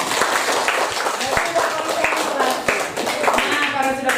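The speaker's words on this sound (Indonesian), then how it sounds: "tepuk tangan untuk kita semua" Group of students clapping together in a classroom, a brisk burst of hand claps lasting a few seconds, close and fairly loud, with some voices mixed in.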